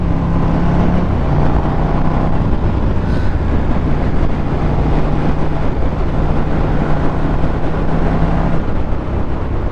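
A KTM Super Duke 1290R motorcycle on a test ride, its engine droning loudly and steadily under heavy wind rush, with a sustained tone that shifts in pitch as the bike pulls.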